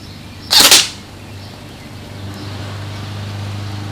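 A single sharp crack as an Umarex AER16 BB rifle fires a round outdoors, loud and close, followed by a quiet hum of background.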